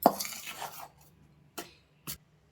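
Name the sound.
spoon mixing ghee into murukku dough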